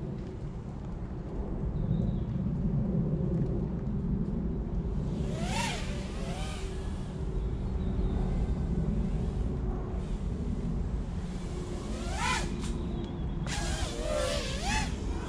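Eachine Twig 115 FPV quadcopter flying outdoors, a steady broadband motor whine with rising and falling pitch swoops as it throttles up and down, loud and continuous throughout with gusty wind noise underneath.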